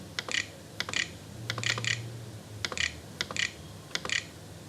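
Someone types on a computer keyboard at close range, irregular bursts of crisp key clicks in short clusters separated by brief pauses, with no voices.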